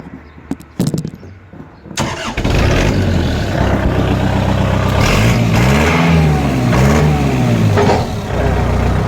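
A tractor engine, on a farm tractor offered for sale, is cranked after a few clicks and knocks, catches at about two seconds and then runs loud and close with a steady throb that rises and falls in revs.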